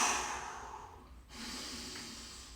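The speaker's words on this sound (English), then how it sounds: "Breathing out on the way up." Audible breathing during a beginner dumbbell HIIT workout: a steady exhale that fades, a brief pause, then another breath, close and moderately soft with no talking.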